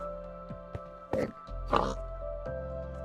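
A pig in Minecraft Bedrock grunts a few short oinks in close succession, clear and near over a low steady game background hum.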